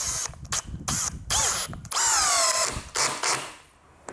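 A Bosch GSB 185 LI cordless brushless hammer drill runs in several loud bursts, stopping and starting with rising and falling motor whine, heard close up with no talking.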